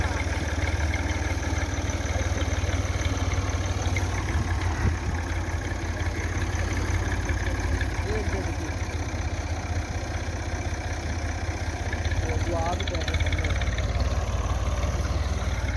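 Massey Ferguson MF 240 tractor engine running at idle in a field, a steady low diesel rumble that holds constant throughout, close and loud with no voices.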